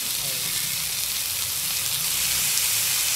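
Tofu frying in hot oil, a steady soft sizzle and crackle heard close and low in level, continuous and even for the few seconds with no talk over it.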